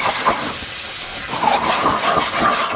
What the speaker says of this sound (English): This is the air gun.